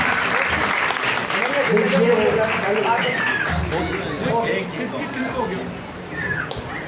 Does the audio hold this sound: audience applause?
yes